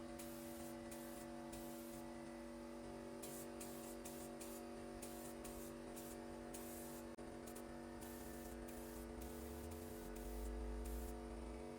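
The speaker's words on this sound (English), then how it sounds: "it's a lot easier to spray them than it is to use a brush and a roller" Paint is sprayed onto a 4-foot light-up marquee party number, with repeated hissing bursts of varying length over a steady hum, fairly quiet and close, and a low thump near the end.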